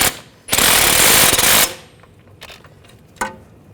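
A strut mount nut and bolt being snugged down on a 2009-2017 Volkswagen Tiguan front strut: a loud, rapid mechanical rattling burst of about a second, followed by quiet clicks and one sharper knock.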